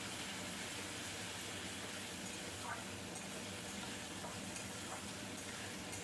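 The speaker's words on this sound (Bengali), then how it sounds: "পেঁয়াজ আর টমেটো পেস্টটা তেলের উপর খুব ভালো করে একটু হতে দিতে হবে" Onion and tomato paste with ground cumin and ginger paste frying in oil, a steady close sizzle that runs unbroken and fairly loud throughout.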